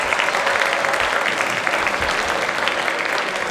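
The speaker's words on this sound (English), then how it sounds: "One quick round of applause for everyone." A concert audience claps warmly for the performing bands, a dense, even wash of applause that stays loud and steady with no voices over it.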